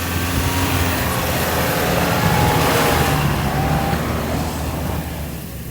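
A Toyota Land Cruiser Commercial, running on non-aggressive tyres, grinds up a steep off-road slope with a loud, sustained engine drone that swells under load and then eases off near the end.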